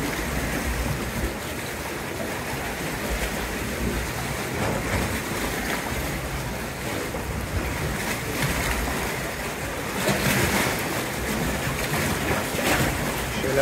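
Sea waves wash and churn steadily around a stand-up paddleboard near coastal sea caves between Gaeta and Sperlonga, a continuous close rushing of water with a slightly louder surge near the end.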